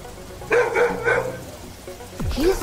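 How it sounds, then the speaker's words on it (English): A dog barks in two short bursts: three quick barks close together, then after a pause a couple more rising, fairly loud and near. "He stood up and barked."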